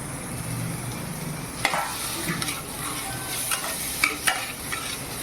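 Tomatoes go into onions fried with salt in a kadhai, giving a steady sizzling hiss with occasional sharp clinks and scrapes of a spoon stirring against the pan.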